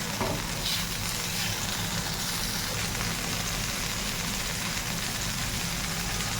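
Fried eggs dropped into a pan of spice masala for egg bhuna, a constant soft sizzle and crackle of hot oil, fairly quiet and steady with no voices.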